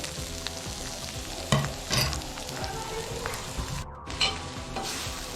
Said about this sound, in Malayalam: ഇനി നമുക്ക് നന്നായിട്ടൊന്ന് ഇത് വറുത്തെടുക്കാം